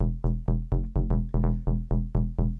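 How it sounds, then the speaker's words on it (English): Original bass line from a remix played in a studio: a steady run of punchy synth bass notes repeating in an even rhythm, loud and close with no other parts. "that's the original bass line here"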